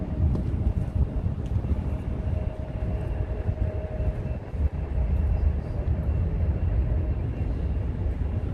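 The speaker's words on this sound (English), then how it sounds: "really hear the plane's engines where I'm standing." Airplane engines roar steadily at SFO airport, a broad low rumble mixed with wind buffeting the microphone, heard from a walking bridge near the runway.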